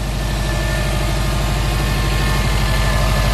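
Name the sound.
Subaru STI engine idling with catted downpipe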